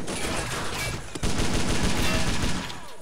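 Sustained machine gun fire rips through a World War II battle in Faces of War, dense rattling bursts with a brief pause midway before the firing resumes, loud and close.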